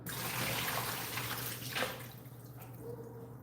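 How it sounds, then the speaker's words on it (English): Water pours out of a cooking pot while making Cameroonian eru, a continuous splashing rush that swells and then trails off into light drips, close and alone with no voices. "Pour out this water."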